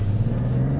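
A Mazda CX-70 SUV pulls out from an intersection under acceleration, giving a steady, loud low engine drone heard from inside the cabin, with no voices.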